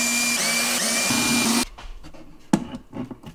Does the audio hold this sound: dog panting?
no